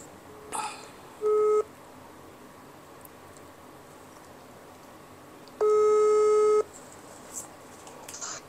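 Two steady electronic phone tones sound, a short one early and a longer one later, separated by quiet background hiss.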